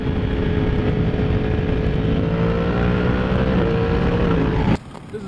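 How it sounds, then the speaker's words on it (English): A Yamaha R1M sport motorcycle accelerates hard, its engine roaring loud and close with a rising whine that holds steady before cutting off abruptly near the end. "Let's do some acceleration on this again."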